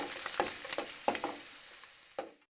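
Garlic cooks in hot oil for a dried anchovy curry, crackling softly with a few sharp pops and spoon stirs that fade out toward the end.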